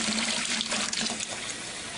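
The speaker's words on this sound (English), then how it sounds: "Now I'm going to fill it up to the 6-gallon mark with cold tap water." Cold tap water filling a beer brewing container toward the 6-gallon mark, a loud, close, continuous rushing gush of water with no talking.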